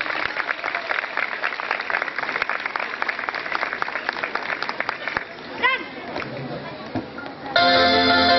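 Dense applause crackles steadily from a crowd at a town anniversary celebration in Herrera, welcoming dancers, for several seconds, then fades as music with a clear tone begins.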